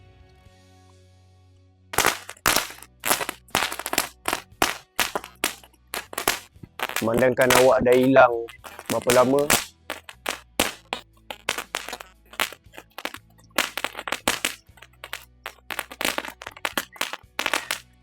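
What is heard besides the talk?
firecrackers going off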